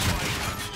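Burst of gunfire from a one-shot-kill weapon in a Call of Duty: Infinite Warfare Domination multiplayer match, a dense loud crack spread across the short moment with no talk over it.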